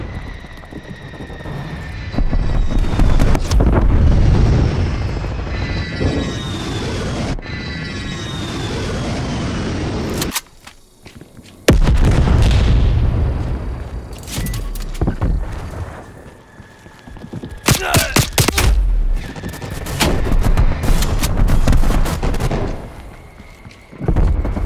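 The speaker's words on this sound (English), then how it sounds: "Strafe run incoming on your location." Aircraft strafe run in Call of Duty Black Ops Cold War on the Nuketown map: loud roaring jet passes, sharp bursts of gunfire and heavy explosion blasts, followed by a series of crackling impacts over a busy game soundscape.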